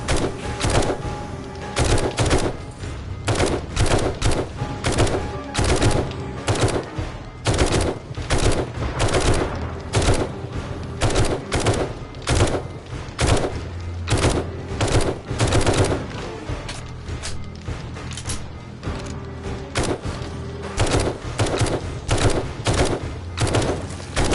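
Rapid automatic gunfire from a gun in the PS5 game 7 Days to Die, loud and close, in sustained bursts of dense shots with brief pauses throughout, no talk.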